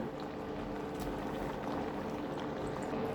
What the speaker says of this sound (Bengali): দেখুন তরকারিতে এই যে আমার জাল উঠে গিয়েছে